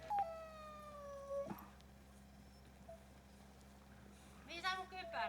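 Sled dogs howl, one long drawn-out howl near the start and another rising at the end, fairly faint over a steady low background hum.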